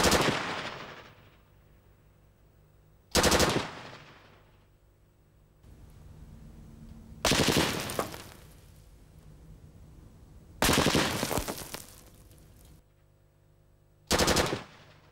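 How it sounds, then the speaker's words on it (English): An FN Minimi machine gun fires five separate loud bursts at a single-layer brick wall, each sharp volley followed by a decaying echo, with quieter gaps between them. "The first target that the Minimi encounters is the single layer brick wall."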